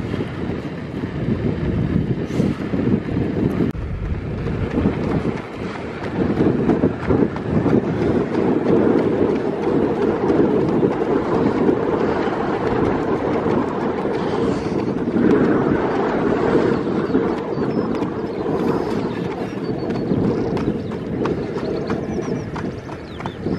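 Steady wind buffets a microphone throughout during a 7 x 3 km marathon training session in Manchester, a continuous rough roar with rhythmic thumping underneath, no voices.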